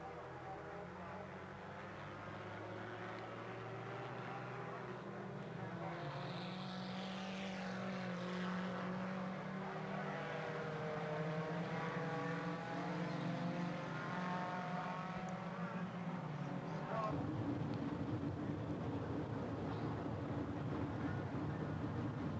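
Four-cylinder street stock race cars circle an oval track, their engines droning and rising as they pass, heard from a distance with a sharp shift in tone partway through.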